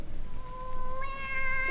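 A cat meows in a vintage comedy radio show, a clear tonal cry held steady then rising brighter and louder near the end, heard alone over a faint hiss.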